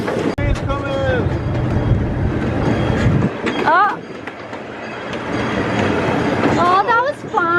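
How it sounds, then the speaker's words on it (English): A train running on rails makes a steady rumble through most of the ride, easing off toward the end. Excited voices talk over it, with squeals and laughter. "Train's coming."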